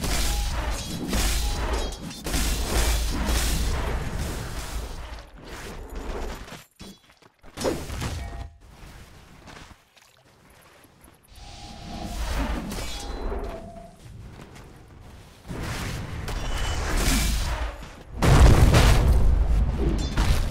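Towers coming under attack in a Dota 2 match, with a dense, loud barrage of booming impacts, crashes and shattering hits that cluster in bursts and briefly thin out before surging heavier at the end.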